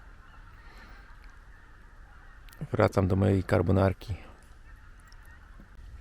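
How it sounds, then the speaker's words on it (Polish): A flock of geese honks in flight in a short noisy burst for about a second, several calls overlapping, with a voice speaking and quiet background otherwise. "setki, setki gęsi lecących na północ"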